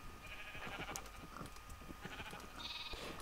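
Sheep bleat faintly in the Minecraft video game, with several short, thin bleats scattered over a soft, busy background.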